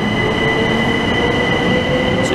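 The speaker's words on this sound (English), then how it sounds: "Departing from platform 1 is the 1332 for Charing Cross via Tunbridge and Seven Oaks." A Southeastern high-speed Class 375 train at Ashford International station, heard close and loud as a continuous rumbling roar with steady high wheel squeal and tonal whine throughout.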